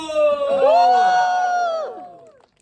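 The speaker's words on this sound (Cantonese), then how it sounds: "我哋數3聲，3、1，歡呼！" Wedding guests cheer together on a countdown in one loud, sustained whooping shout that holds for about two seconds and then fades.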